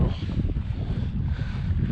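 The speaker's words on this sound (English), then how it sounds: "because it is bloody windy" Strong wind buffets a low tarp tent pitched at Dinorwic Quarry, a steady loud roar with gusting rumble and microphone buffeting throughout, with no talk.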